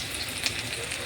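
Crushed garlic cloves sizzle steadily in a hot pan of oil while cooking kudri greens, a continuous close frying hiss with faint crackles throughout.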